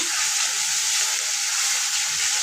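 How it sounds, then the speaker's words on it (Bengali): Steady sizzling hiss of food frying in oil, constant and close, with no talking over it. "এখন আমি এখানে তেলের মধ্যে একটু ভেজে নিলাম"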